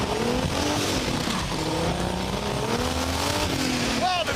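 A 2015 Subaru Legacy races, its engine droning steadily and loudly with shifting pitch, and a sharp tire squeal rises near the end.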